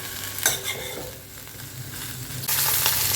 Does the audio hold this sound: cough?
no